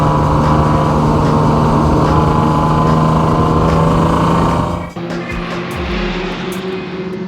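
A Barra-swapped Ford EL Falcon drift car on track drones loudly with a steady, sustained engine roar, then the tone drops and shifts abruptly near the end as the engine note changes.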